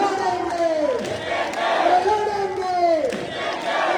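A political gathering crowd of the Koli community in Surat chants the slogan Ladenge in unison, the massed voices rising and falling in repeated rhythmic calls, near and loud.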